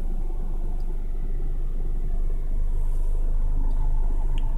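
A car rolls slowly in neutral with feet off the pedals at a cemetery gravity-hill spot, giving a steady low rumble of tires and engine with no talk, constant and close throughout.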